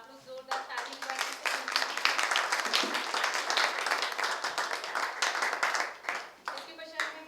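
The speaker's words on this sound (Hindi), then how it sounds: "तो एक बार तेलंग सर के लिए प्लीज आप लोग जोरदार ताली बजाएं" Audience at a poetry and cultural event in Bhopal breaking into hearty applause, a lively burst of many hands clapping that swells quickly and tapers off after several seconds.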